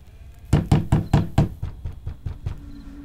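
Hard knocking on a door during a raid scene in a historical drama: about ten heavy, evenly spaced blows, loud and close at first and then gradually weaker, with no talk over them.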